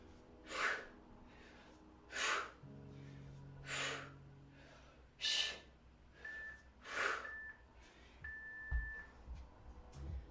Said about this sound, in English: Every time you swing, exhale.